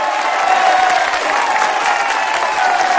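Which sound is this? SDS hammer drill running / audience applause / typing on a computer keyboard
audience applause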